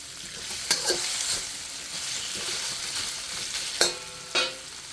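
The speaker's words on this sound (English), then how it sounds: "we keep this on stir frying" Beef with tomatoes and onion sizzles steadily in a hot pan while being stir-fried, with a few sharp scraping clacks of a utensil against the pan.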